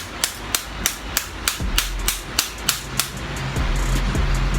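Steady metallic hammer blows on copper windings from an old transformer, about ten evenly spaced strikes, close and sharp, with a low rumble underneath and a machine-like hum toward the end.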